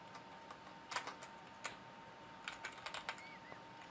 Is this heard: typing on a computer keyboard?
yes